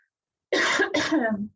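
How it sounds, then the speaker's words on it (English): Two quick, harsh coughs in a row, close and fairly loud, then silence. "Hopefully next week I won't be coughing all over the place."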